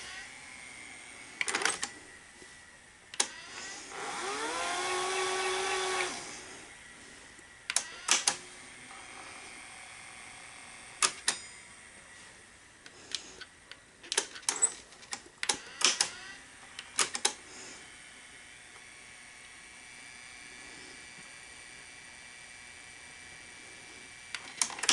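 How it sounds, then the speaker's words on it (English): A faulty motor in an NEC VC-N70EU Beta HiFi VCR runs on fast forward: a soft mechanical whir swells for a couple of seconds amid scattered sharp clicks and clunks of the transport, quiet and close. "That motor doesn't sound good."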